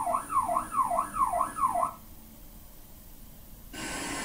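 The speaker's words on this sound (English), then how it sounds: "Alarm sound coming from 150-degree speakers is being classified as alarm sound" A warbling electronic alarm sweeps up and down five times in a steady rhythm, then cuts off, leaving a low hiss before noise returns.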